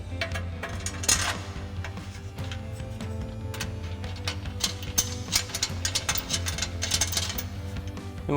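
A ratchet wrench tightens factory 15mm bolts on a 2021-2023 Ford F-150 front bumper, with rapid repeated clicking pawl strokes in bursts, close and continuous over a low background hum.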